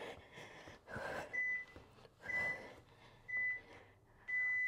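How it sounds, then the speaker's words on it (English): A malfunctioning workout interval timer gives short electronic beeps at irregular intervals, four or five thin tones spaced through a home exercise session, with rustling and breathy movement noise underneath and no speech. "That's when the timer malfunctions."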